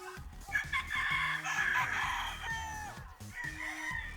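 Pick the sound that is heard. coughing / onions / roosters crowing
roosters crowing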